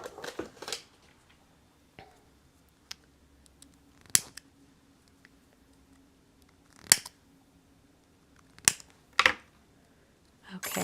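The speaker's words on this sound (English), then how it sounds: "All right, gotta cut this apart." Scissors snip through paper in a papercrafting session, a handful of sharp separate cuts spaced a few seconds apart, close and crisp over a quiet room.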